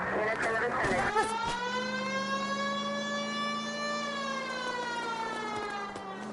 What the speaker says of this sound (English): I've always found the siren useful in situations like this.